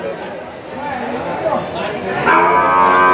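HF and Jersey calves lowing at a buffalo market in Erragadda, Hyderabad, in a barn setting, a couple of moos rising over a busy background of other animal calls, fairly close.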